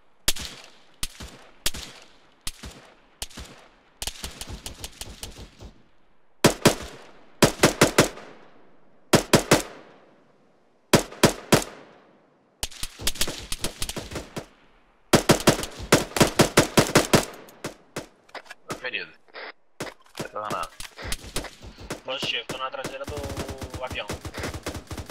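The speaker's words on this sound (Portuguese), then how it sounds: "Disparo vai ter muito próximo de mim aqui" Gunfire in the military shooter game ArmA 3: rapid automatic bursts and single loud shots cracking close by, with pauses between volleys and later more scattered firing.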